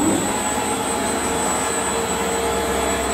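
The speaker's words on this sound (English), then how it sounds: "spindle turns on and starts going through the routine" A CNC Router Parts CRP4848 router spindle starts and runs its program, a steady loud high whine with broadband motor noise held constant throughout.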